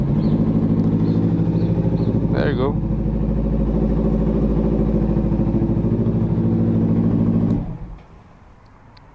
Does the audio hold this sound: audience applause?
no